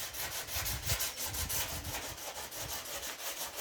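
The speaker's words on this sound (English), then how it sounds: "So yeah, that is sanding down the" Steady back-and-forth sanding strokes on Bondo body filler on a Nissan Bluebird, rough and scratchy, in a regular rhythm close by, with no talking.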